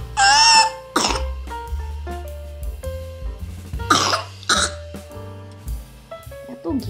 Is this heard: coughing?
yes